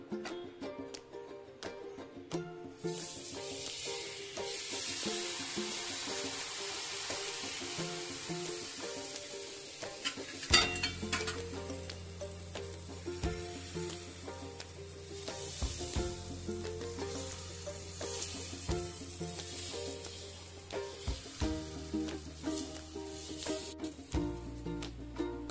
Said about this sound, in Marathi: आता आपण हे बॅटर जे गुलगुल्यांसाठी केलेलं आहे ते आपण त्याच्यामध्ये पॅनमध्ये टाकणार आहोत